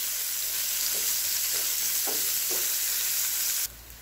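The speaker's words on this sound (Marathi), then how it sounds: "छान असा रंग येईपर्यंत सगळ्या बाजूने परतवलं गेलं पाहिजे। परतून घेऊ, गॅस त्यात मोठीच ठेवायची।" Bitter gourd sautés in hot oil over a high flame, a loud continuous sizzle with a few soft stirring scrapes at regular intervals, cutting off abruptly near the end.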